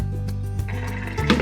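Redbud flowers are rinsed in a bowl of water, producing soft, continuous sloshing and trickling, close and steady with a slightly louder splash near the end.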